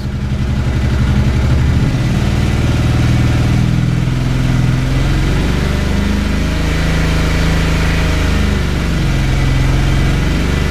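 An engine idles steadily with no load and lights off while its OE-to-RM stator and regulator output is tested, a loud continuous low throb with slight wavering in pitch and no talking over it.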